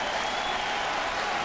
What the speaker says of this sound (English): Crowd finally comes alive